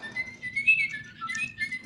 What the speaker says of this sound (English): these are my little birds